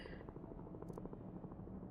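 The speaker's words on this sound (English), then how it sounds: "We'll use helicopters." Helicopters in the video game Broken Arrow give a steady, close rotor thrum with a quick rhythmic chop that holds through the short moment without pause.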